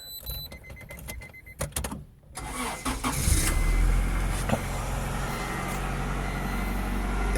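A 1998 Acura Integra GS engine cranks and catches, then settles into a steady, close idle with a continuous low rumble after some handling clatter at the start.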